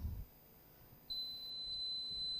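A quiz competition buzzer sounds as a thin, steady electronic tone starting partway through and holding to the end, fairly faint in a quiet room after a brief thump.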